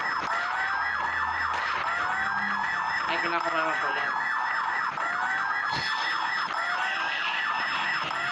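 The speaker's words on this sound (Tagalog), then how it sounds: "Saan yung alarm?" A wailing alarm siren rises and falls in repeated sweeps through a zombie-survival level of the Roblox game Field Trip Z, loud and continuous throughout, with a player briefly talking over it.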